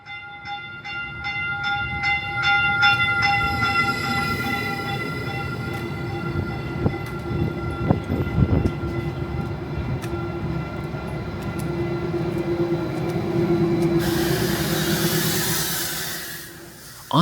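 An O-Train Line 2 Trillium passenger train, Alstom Lint or Stadler Flirt stock, rumbles steadily on the rails from inside, with a sustained motor whine, clanking joints midway and a rising hiss near the end.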